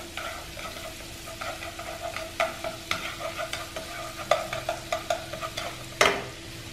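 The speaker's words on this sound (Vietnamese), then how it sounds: "thì mình cho cái đầu hành trắng vô để mình phi cho nó thơm ha" White onion frying in melted butter in a pan, a steady close sizzle with frequent stirring scrapes and clicks, louder spatters near the end, no voices.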